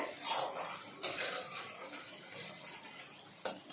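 Spice masala for a potato-cauliflower curry is stirred and sautéed in a pan, making sporadic close clinks and scrapes of a utensil against metal over a faint sizzle.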